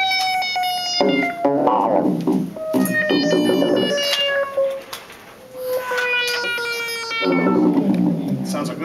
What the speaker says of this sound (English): And the sound it's producing is FM synthesis.